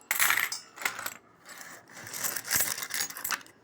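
Metal coins are handled and dropped, clinking and jingling against one another in repeated bursts with short pauses between them, close and clear.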